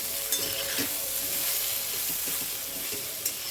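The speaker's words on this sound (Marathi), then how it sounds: "आता आपण मिक्स करून घेऊ" Pumpkin vegetable curry sizzles steadily in a pan while a spoon stirs it, scraping softly through the hissing with a few small clinks, close and continuous, no talking.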